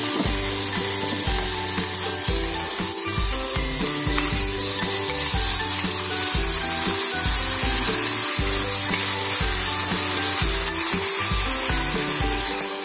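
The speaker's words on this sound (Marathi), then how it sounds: "तर 1-2 मिनिटं मिक्स करून घेते या भाजीला छान" Tomatoes with garlic paste and coriander powder sizzle loudly in a pan for a tomato bhaji. Steady frying hiss runs throughout, with rhythmic stirring scrapes and no talking.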